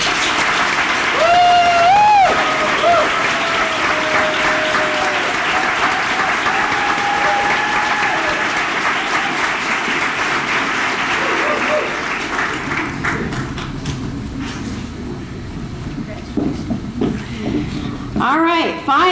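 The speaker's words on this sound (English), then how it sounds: "If you're a member of this team, please stand for applause." Audience applause at a state health department team recognition awards ceremony, sustained clapping from a crowd filling the whole stretch, with a voice speaking over it near the start and the clapping thinning toward the end.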